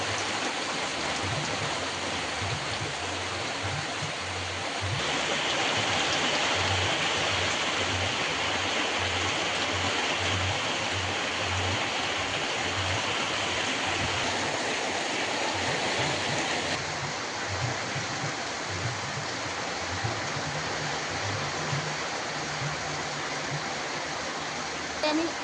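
Palm fruit fritters (taler bora) deep-frying in hot oil make a loud, steady, rain-like sizzle that runs unbroken throughout, with a faint low murmur beneath.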